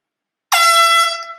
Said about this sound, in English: we're going to blow these air horns